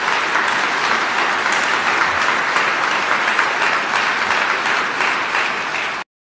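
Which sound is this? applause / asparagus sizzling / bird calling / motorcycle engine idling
applause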